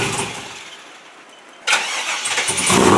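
Chevrolet Camaro engine cranking and turning over after a quiet stretch, a sudden loud burst that settles into rough running; close.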